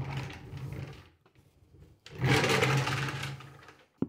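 A drill drives 3/4 inch pan head screws into a wooden shop cart, giving two short, fairly close whirring bursts, the second louder and longer, with a brief click at the end.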